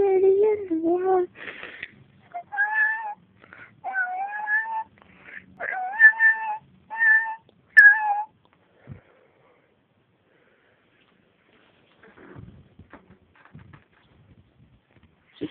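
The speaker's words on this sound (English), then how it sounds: "It's the prettiest kitty in the world." A cat meows repeatedly, close and loud, with a string of drawn-out, wavering cries over about eight seconds, followed by quiet with faint rustling.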